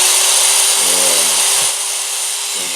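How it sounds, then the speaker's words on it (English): A power drill fitted with a sanding disc grinds against a plate, a steady loud high whir running throughout with slight shifts in pitch as the pressure changes, no voices. "from here I just switch over to a drill with a sanding disc on it"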